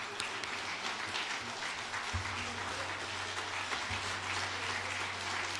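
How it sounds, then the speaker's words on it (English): Conference delegates at the 5th Africa Pension Supervisors Association conference clap, standing, in a large hall: a steady, moderately soft wash of applause that continues throughout with a low hum underneath. "Let's all stand for ourselves and clap for ourselves."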